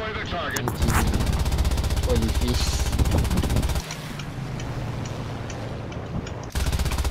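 An A6M5 fighter's aircraft machine guns fire in War Thunder in loud, rapid sustained bursts over engine drone, cutting off and then resuming near the end.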